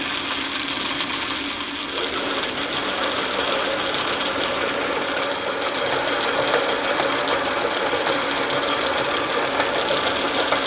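A metal lathe takes a heavy cut while turning stock down for a Morse taper tailstock die holder. A steady mechanical whir and chatter runs throughout, close and even, with faint rhythmic knocking and no talking.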